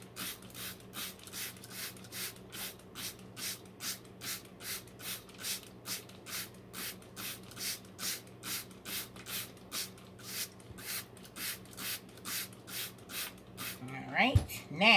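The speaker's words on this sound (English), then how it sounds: "Now you're supposed to spray this some more." A Dollar store spray product is pumped onto soil in a pot, making a long series of evenly spaced, soft hissing spritzes close by, with a brief rustle at the end.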